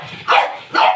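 Two loud, sharp dog barks close by, about half a second apart, with no talking.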